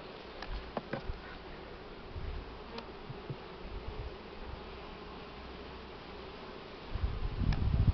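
Buckfast honey bees fill an open thirteen-frame hive in August with a steady, close, droning buzz. Faint ticks and rustles sit on top, and heavier handling noise rises near the end.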